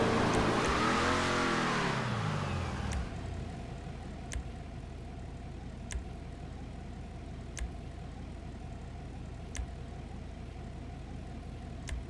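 Vapid Dominator FX Interceptor engine in GTA Online roars loudly with a rising rev for about three seconds, then settles into a steady low idle hum with faint periodic clicks.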